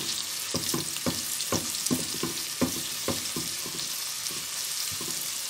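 Onions and potatoes with garlic-ginger paste sizzle steadily in a pan on a home stove, with a series of sharp scraping clatters from stirring repeating at an uneven rhythm over the frying hiss.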